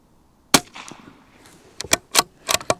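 A CZ 457 .22 rifle firing subsonic ammunition outdoors: one sharp, fairly quiet crack, then a quick cluster of four or five more shots with short gaps, each clipped and close.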